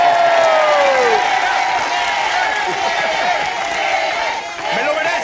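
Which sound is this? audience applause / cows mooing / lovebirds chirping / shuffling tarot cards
audience applause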